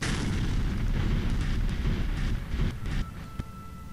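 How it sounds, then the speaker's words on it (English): An explosion in the video game Star Wars Jedi Academy is a loud, sustained rumbling boom that fills the whole clip with crackling debris and fades slightly toward the end. "That was a laggy explosion."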